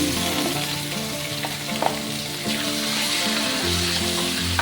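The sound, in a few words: chicken sautéing with garlic and onion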